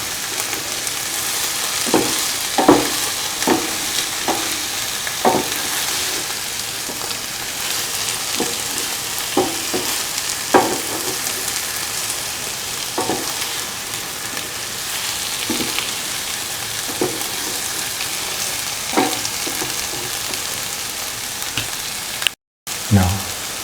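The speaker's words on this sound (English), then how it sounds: "Saute thoroughly." Spinach stew ingredients with cottage cheese sizzle steadily in a hot pan, a dense continuous frying hiss broken by intermittent scraping stirs, close and fairly loud throughout.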